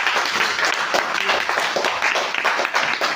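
An audience claps together in steady, dense applause that fills the whole stretch at an even level, with no voices standing out above it.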